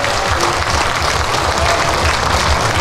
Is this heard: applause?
yes